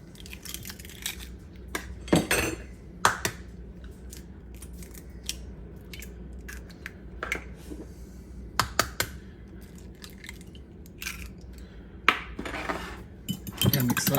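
Milk and eggs being whisked together in a bowl for a pound cake, with repeated clinks and scrapes of a utensil against the bowl in irregular bursts, fairly close and moderately quiet.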